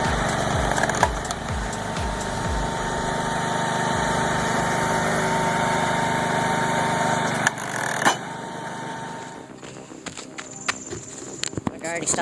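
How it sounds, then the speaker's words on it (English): A homemade firewood processor splitting logs up to 46 inches: a steady machine drone with several sharp, splintering cracks near the start and more scattered cracks and knocks toward the end, with talking over it. "Splits logs up to 46 inches like it's nothing."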